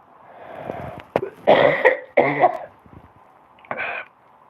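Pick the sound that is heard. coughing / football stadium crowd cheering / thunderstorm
coughing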